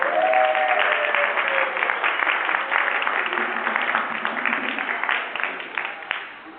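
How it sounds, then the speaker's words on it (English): An audience applauds costume designers at a stage performance, a dense, sustained round of clapping that rolls on steadily before tapering off at the end. "So please, a round of applause for the costume designers."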